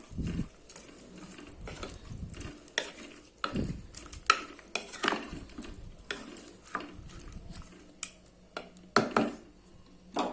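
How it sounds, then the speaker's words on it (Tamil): A spoon stirs tomato kootu with water in a pan, giving repeated scraping, clattering strokes over a faint steady sizzle, close and moderately loud, with no talking. "இப்போ இது நம்ம கலந்து விட்டுடலாம்"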